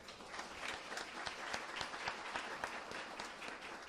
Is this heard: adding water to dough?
no